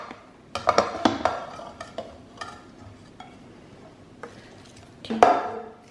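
A spoon scraping and clattering in a metal pot as garlic, chili and onion are stirred for mutton handi, with bursts of clinking and a faint sizzle, loudest near the end.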